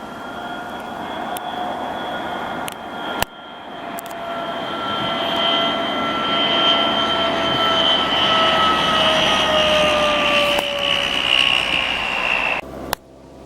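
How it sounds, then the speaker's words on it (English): An airplane coming in to land at an airport near Whitehorse, Yukon, heard from a rooftop stairway: a steady, loud engine roar with rising whine that holds for about ten seconds before being cut off abruptly. "here's a plane coming in."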